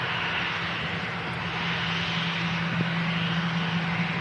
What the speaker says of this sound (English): It's an EasyJet taxi past us as it makes a racket.